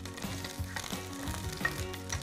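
Garlic and onions stir-fry in a hot pan, giving a soft, steady sizzle with faint scraping and clinking underneath. The sound is low in level and continuous.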